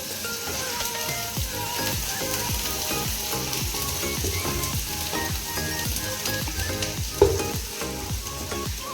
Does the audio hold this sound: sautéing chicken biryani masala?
yes